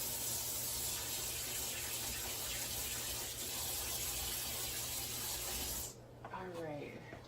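Running water gushes steadily into a water bath used for soaking Chalk Couture pieces, a close, loud hiss that cuts off abruptly near the end before a voice speaks.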